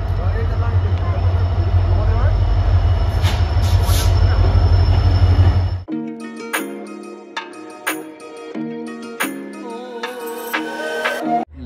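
A passenger train running on rails, a steady loud rumble of wagons and wheels that cuts off abruptly midway, followed by quieter station ambience with scattered knocks and several people talking.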